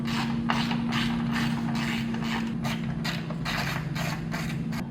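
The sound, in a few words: ratchet removing T30 bolt on RAM light bar bracket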